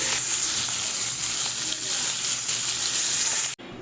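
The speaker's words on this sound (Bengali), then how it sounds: "তেলটা গরম হয়ে গেছে এবার আমি মাছগুলোকে ছেড়ে দিচ্ছি" Hilsa fish frying in hot oil, a steady loud hiss and sizzle that holds without a break and then cuts off abruptly near the end.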